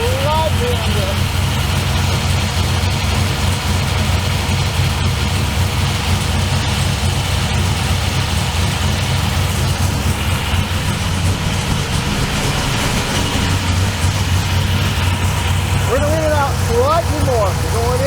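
A carbureted engine fitted with a 4150 E85 carburetor idles steadily, a continuous low rumble under someone talking over it.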